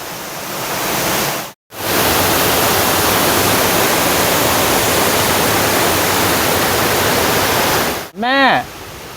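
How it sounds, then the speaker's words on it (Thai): A loud, constant roar of falling water from a forest waterfall in Doi Inthanon National Park, Chiang Mai, fills the scene up close, briefly dropping out once, with a short high chirping sound near the end. "เราก็เดินมาถึงน้ำตก"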